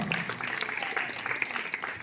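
An audience claps in steady, dense applause to welcome a guest at a Buddha Jayanti memorial gathering, a continuous crackle of many hands at moderate distance with no voices over it.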